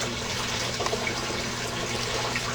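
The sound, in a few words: filling a container with warm water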